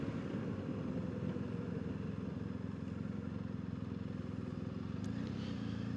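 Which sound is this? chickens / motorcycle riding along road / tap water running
motorcycle riding along road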